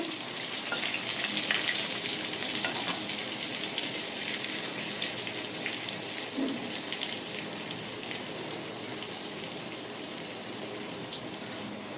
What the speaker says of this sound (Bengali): পটলগুলো আমি একটু লাল লাল করে ভাজবো